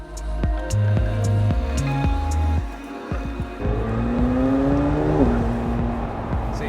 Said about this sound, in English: So you've been out in a 720 Spider before?